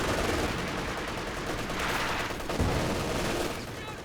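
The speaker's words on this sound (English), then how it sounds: "There's the machine gun going to work in the center." Machine gun in Company of Heroes 2 battle, continuous dense crackle of automatic fire with a few heavier thumps within a dense, steady din of combat.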